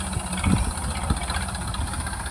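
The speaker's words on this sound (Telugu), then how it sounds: "ఇలా ట్రాక్టర్తో తొక్కిస్తే ఆ పనకుండే ఒడ్లన్నీ రాలిపోతాయి అన్నమాట." A tractor engine idles and chugs with a steady low rumble as the tractor runs over harvested paddy to thresh out the grain, close and continuous with faint vibration and no voices.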